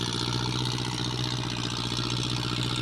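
A farm tractor engine runs steadily at idle, a continuous low rumble with an even throbbing rhythm and no pauses, loud and close throughout.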